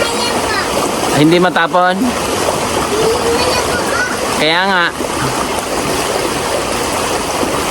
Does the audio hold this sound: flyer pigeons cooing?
no